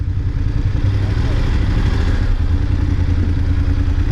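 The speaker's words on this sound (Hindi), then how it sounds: "बाइक ले जाते हैं अंदर।" A motorcycle engine thrums steadily and loudly at close range on a ride to a Riders Planet outlet in Delhi, a constant low rumble with some rattle and no pauses.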